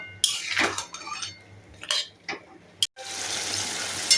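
Mutton curry with yogurt being stirred in a pot over a low flame, a spoon scraping and clinking against the metal in scattered bursts, with a steady hiss of cooking underneath in the latter part.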